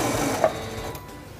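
A Singer 7258 computerized sewing machine stitching fabric to the end of a seam, a steady close mechanical whirr running evenly throughout with a small click near the start.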